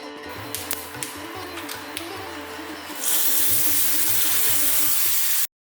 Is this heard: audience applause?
no